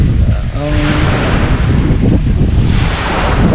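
Loud sea surf rolling in at a beach campsite during heavy rain, a continuous windy rush of waves close to the microphone with buffeting wind noise and a brief voice early on.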